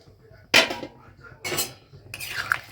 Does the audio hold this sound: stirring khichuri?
yes